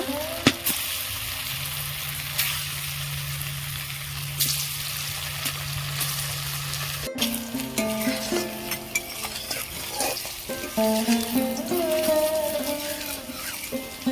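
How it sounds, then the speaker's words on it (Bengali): Paneer pieces made with papaya fry in a little hot oil with turmeric powder in a kadai. A quiet stretch of stirring gives way to a lively crackling sizzle with spatula scrapes. "এবার আমি পনিরগুলো ভালো করে ভেজে নেব"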